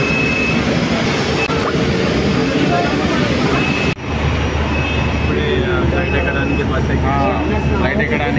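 A jet airliner's engines at an airport make a loud, steady roar that fills the whole stretch, with faint voices in the background.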